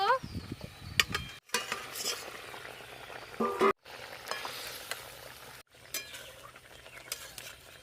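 Fried fish goes into a boiling curry gravy, with steady sizzling and bubbling plus clinks of a utensil against the pot. The sound is broken by several abrupt cuts.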